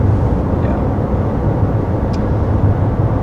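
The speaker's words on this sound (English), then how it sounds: "as far as audibly, you are going to hear like a little bit of a drone, no shift simulation" Steady low engine drone from a 2021 Honda CR-V while driving, a constant broadband hum with no shift changes, loud and continuous throughout.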